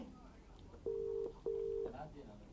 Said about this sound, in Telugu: ఆ నంబర్ నేను చేస్తాను ఆ ఫోన్ ఇవ్వండి